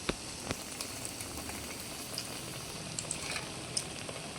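Eggplant slices dropped into hot oil in a pan, a faint, steady bubbling sizzle with a few soft crackles and pops, no talking.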